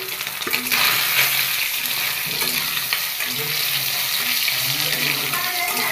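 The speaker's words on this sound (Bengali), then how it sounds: "তো ভালো করে ভেজে নেব, তো আগে তেল দেবো না, ভেজে নেব" Soybeans dry-roast in a pan with cardamom, cloves, dried red chillies and bay leaves, a loud continuous hiss and sizzle with occasional stirring scrapes throughout.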